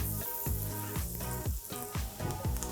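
Chopped onion with a pinch of salt sizzles steadily in a hot pan, a continuous crackling fry with faint clinks of a utensil stirring, heard up close without talk.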